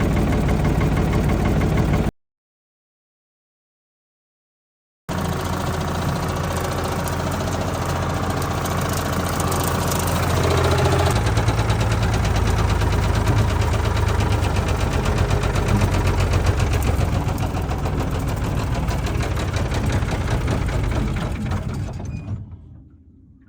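Ford 3000 tractor engine running rough and loud up close, a rapid knocking chug after a brief silent gap, climbing slightly in pace before dying away at the end.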